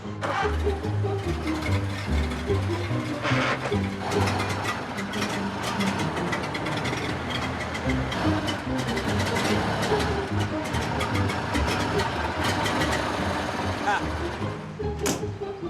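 Ford Model A engine running at a car show, a continuous rumbling chug with busy mechanical clatter, fairly loud and steady, with people talking over it.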